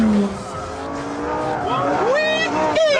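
A Lamborghini Gallardo power sliding around a race circuit, its engine note rising and falling with throttle while tires squeal in long bursts; a voice talks over part of it.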